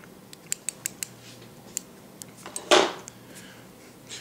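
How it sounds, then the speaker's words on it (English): Scissors snip thread while a Clouser Minnow fly is tied, giving one crisp cut after a run of small faint clicks and taps, heard up close in a quiet room. "I'll just get in there and trim it."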